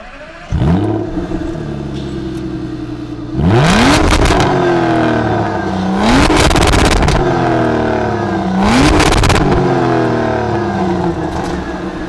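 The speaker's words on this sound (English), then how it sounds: "let's take a listen to that exhaust note." Throaty V12 exhaust of a 2005 Aston Martin DB9, started up and then blipped in three sharp revs that rise and fall over a steady idle, loud and close with no talking.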